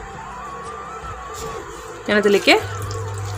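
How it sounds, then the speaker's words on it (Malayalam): A quarter glass of water is poured into a pan of aviyal, a brief splashing gush lasting under a second near the end. Someone speaks just before and during the pour. "ഒരു 1/4 ഗ്ലാസ് വെള്ളം ഒഴിച്ചു കൊടുക്കുന്നുണ്ട്."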